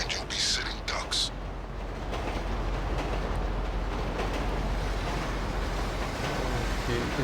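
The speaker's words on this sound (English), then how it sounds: "You need to keep that train moving at all costs." A moving train in GTA Online, with a loud continuous low rumble and rolling wheel noise that stays steady throughout and brief bright hissy bursts near the start.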